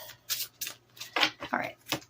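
Oracle cards are shuffled quickly by hand, giving several short papery riffling bursts close by.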